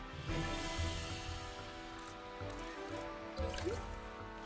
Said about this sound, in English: I want to make a nice little like river thing, right?